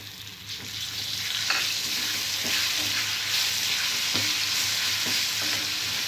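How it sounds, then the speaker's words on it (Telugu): Ground sorrel leaf and onion chutney sizzles in a pan over fried tempering while being stirred. A steady frying hiss continues throughout, with soft repeated scraping strokes. "తాలింపు ఫ్రై అయిన తర్వాత ముందుగా నూరుకున్న పచ్చడి వేసుకోవాలి."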